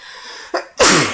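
A single sharp sneeze bursts out loudly, preceded by a quick intake of breath, then fades.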